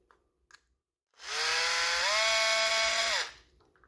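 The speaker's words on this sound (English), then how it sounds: "first you need to undo these two screws" A power screwdriver whirs loudly for about two seconds, its pitch stepping up partway, while undoing screws on an electric kettle, preceded by a few small clicks.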